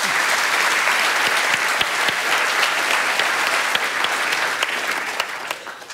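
An audience at a Festival of Dangerous Ideas panel applauds to welcome a speaker, a steady dense clapping that holds evenly and tapers slightly at the end, with no voices over it.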